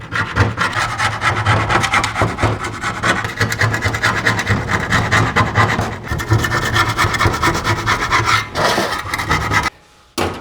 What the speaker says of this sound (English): Just a preliminary kind of scrape.